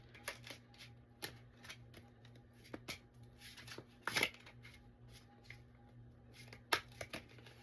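Tarot cards are shuffled close by in a series of quick, crisp riffles and taps, irregular in rhythm, over a faint steady hum.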